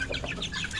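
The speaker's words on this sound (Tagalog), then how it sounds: "Tandang. Puro tandang." Several open-air roosters give short, close clucks in an irregular run, the calls overlapping quickly with no one talking.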